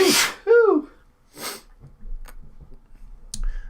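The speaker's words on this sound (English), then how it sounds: "I gotta sneeze." One loud, close sneeze bursts out at the start, then sniffs and small breathy sounds follow, with faint background noise after.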